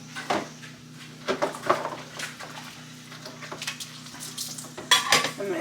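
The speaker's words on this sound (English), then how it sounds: "I'm going to go ahead and get some dishes done here" Dishes, pots and cutlery clink and knock in a sink as they are washed by hand with limited hot water at an off-grid home, with scattered irregular clatters, a few sharper bangs and running-water hiss between them.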